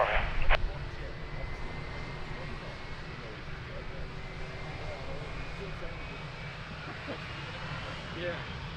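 Airliner taking off from runway 02 at Lisbon Airport, a steady broad engine roar holding throughout at moderate distance, with a faint radio voice and a brief sharp click near the start.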